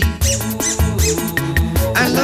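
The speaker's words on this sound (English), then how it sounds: "I love my squeaky toy" A squeaky toy squeaks repeatedly in time within a played novelty song on a radio show, sharp squeaks riding over loud rhythmic music.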